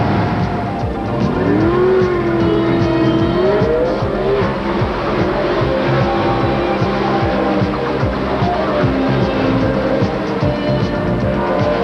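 A loud drag racing car engine roars continuously through a 7.68-second quarter-mile run at the 1985 World Finals, its pitch rising and falling with the gear changes, and crowd or track noise sits underneath it.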